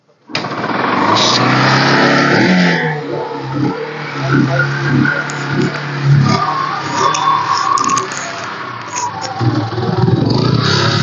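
A 2012 Yamaha Gladiator motorcycle engine catches on self-start and runs, revving loudly at first then settling into an uneven idle with a few throttle blips, close by.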